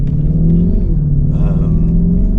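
A performance car's exhaust revs in a showroom, a deep steady engine drone with rising and falling pitch and a louder surge midway, close and continuous throughout.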